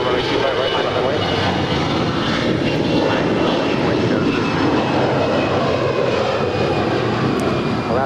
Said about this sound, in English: That's an A320, flight 220 with Alaska Airlines.